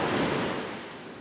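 Small ocean waves wash onto a beach at high tide on a hot evening, a broad hiss of surf that swells and then slowly fades, with no talking.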